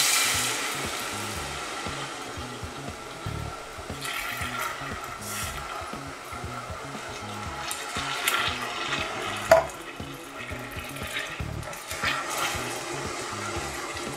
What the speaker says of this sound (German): Und hier vorsichtig dann die Kokosmilch reinschütten,